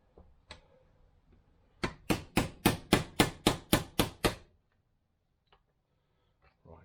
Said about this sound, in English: I've managed to peen it over and in